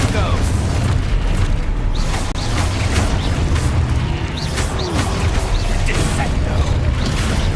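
Confringo fire spell blasts in the Hogwarts Legacy video game, dense booming impacts and crackling bursts over a loud, continuous game-combat soundscape with music.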